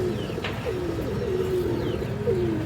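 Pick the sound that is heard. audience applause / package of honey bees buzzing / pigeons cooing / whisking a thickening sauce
pigeons cooing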